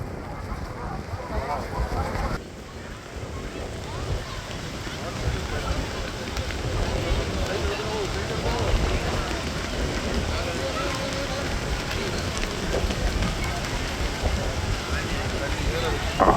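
Rain falls steadily on an outdoor kite festival in Jaffna, a constant dense hiss running throughout, with people talking over it.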